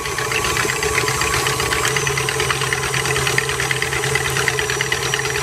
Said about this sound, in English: I'm gonna let the KitchenAid whisk this